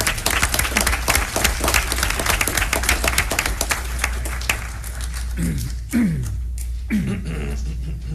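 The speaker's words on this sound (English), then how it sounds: "let's give them a huge round of applause" A school board meeting audience gives a huge round of applause for three students, dense clapping filling the room loudly for several seconds before thinning out, with a low electrical hum underneath.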